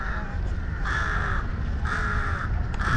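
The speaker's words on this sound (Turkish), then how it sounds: "Aha, bu kargaya bir şey olmuş." A crow in a leafy Bangkok park gives three loud, harsh caws spaced evenly apart over a steady background of low traffic rumble.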